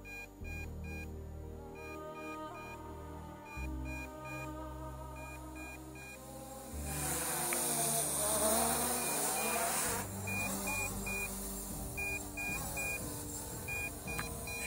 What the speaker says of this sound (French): là j'ai alerte batterie